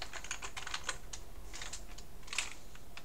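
Typing on a computer keyboard while entering code in the PlayCanvas editor: a quick, light run of key clicks in uneven bursts, close and fairly quiet, with no talk.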